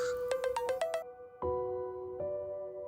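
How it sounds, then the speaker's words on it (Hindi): A mobile phone ringtone starts up with a quick run of bright, rising beeps, then moves into longer sustained melodic tones, close and clear with no talking. "अचानक उसका फोन फिर बजना शुरू हो जाता है"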